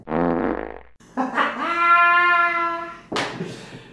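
A comic fart sound effect plays, a wet, buzzy blast with a sharp rising tone, loud and alone, ending in a sputtering burst.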